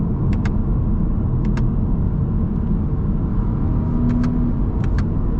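A 2024 Subaru Impreza RS with a CVT accelerating in S mode, heard from inside the cabin as a steady, loud engine and road rumble with a few faint clicks.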